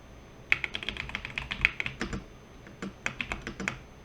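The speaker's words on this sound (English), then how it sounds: "I'm gonna type here" Quick bursts of clicking keystrokes on a computer keyboard, close and fairly quiet, with a brief pause midway before another run of typing; no voices.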